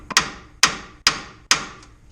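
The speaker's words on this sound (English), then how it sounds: "You can try just tapping on it with a hammer." Four sharp metallic hammer strikes on a Nissan Xterra steering spindle ring out at a steady pace, each hitting hard and decaying quickly, close and clear.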